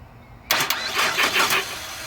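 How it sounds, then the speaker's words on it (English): A car starter motor cranks after 12 volts are fed straight to it through a jumper wire, a sudden loud start followed by a short burst of rhythmic, close cranking. "Let's send 12 volts directly to the starter and see if the starter cranks."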